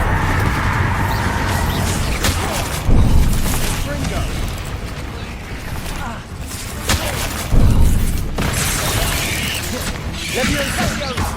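Bombarda blasting spells erupting in Hogwarts Legacy, two heavy booms a few seconds apart amid mechanical clatter and busy combat noise, with a voice talking throughout.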